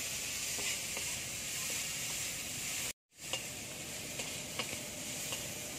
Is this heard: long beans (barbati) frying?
yes